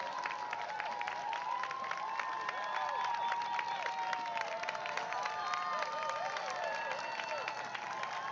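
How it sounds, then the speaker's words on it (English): Spectators lining the course of the 2025 Stockholm Marathon cheer, clap and whoop continuously for passing runners, with scattered high shouts and whistles over a steady, lively crowd roar. "Back to where lots of people are cheering them on."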